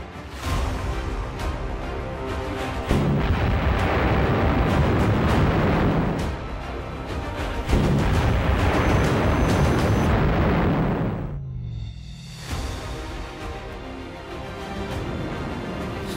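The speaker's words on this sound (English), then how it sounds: "The city is bombarded by heavy fire." Heavy artillery bombardment of Warsaw in 1939, a dense, loud roar of overlapping blasts and rumbling explosions that swells and fades in long waves with no voices, then drops briefly before resuming.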